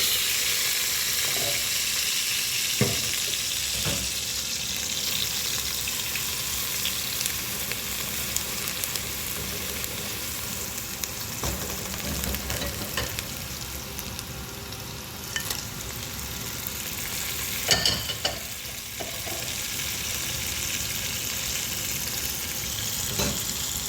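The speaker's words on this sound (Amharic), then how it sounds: "ሽንኩርታችን እንደምንፈልገው ሁሉ እየበሰለ" Onions fry in a hot pan with a steady, dense sizzle that holds for the whole stretch, broken by occasional louder crackles and scraping stirs, close by and with no talking.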